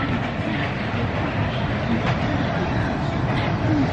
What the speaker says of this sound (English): There's the monorail